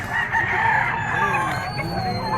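A gamefowl rooster crows once, loud and close, at an early-morning fowl market in Padre Garcia, Batangas, with faint background voices and other birds.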